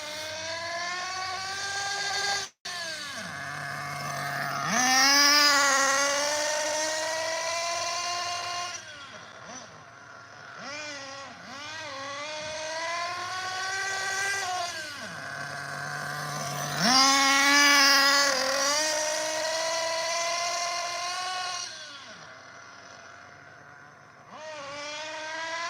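Small RC car engine held at about half throttle, a high buzzing whine that rises and falls in long sweeping pitch swells over roughly twenty-five seconds, steady and moderately loud, with one brief cutout early on.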